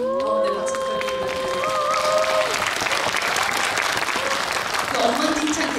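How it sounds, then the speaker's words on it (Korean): An audience at a live film talk event claps, with a few voices and a tonal sound over the first half, then dense, steady applause continuing to the end. "박수 부탁드립니다."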